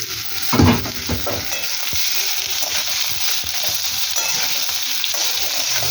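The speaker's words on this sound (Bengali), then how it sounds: "এবার আমি আলুটা দিয়ে দেবো, জিরার ওপরে আলুটা দিয়ে দেবো। আলুটা ভালো করে ভেজে দেবো।" Potatoes frying with cumin in hot oil give a loud, continuous, hissing sizzle, with a brief burst as they drop in at the start and then steady crackling throughout, with no talk.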